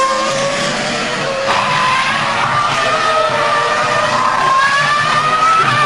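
A Williams Formula 1 car at the 2003 European Grand Prix screams past at speed, its high-revving engine whining steadily with rising pitch sweeps, loud and sustained over a constant broadcast background.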